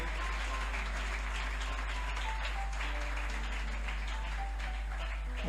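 A church crowd applauds and cheers to welcome the prophet, loud sustained clapping with steady tones from music continuing underneath.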